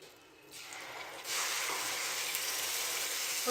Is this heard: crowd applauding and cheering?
no